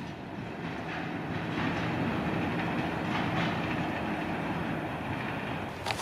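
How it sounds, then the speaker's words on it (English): An EMD GP38 locomotive hauls an Escanaba Lake Railroad log train past, a steady loud rumble with rhythmic clickety-clack of wagons on the rails and no talk. "Escanaba Lake Railroad heading north on this beautiful Thursday."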